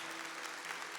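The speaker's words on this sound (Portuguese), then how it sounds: "Então aplauda Deus por causa disto." A church congregation applauds together, a dense, steady wash of clapping hands that fills a short moment with no voices on top.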